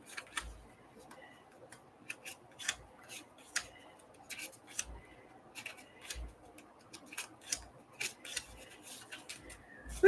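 Scissors snipping paper for a lapbook craft project, quick irregular clicks and cuts repeating through the clip, close but faint against a quiet room.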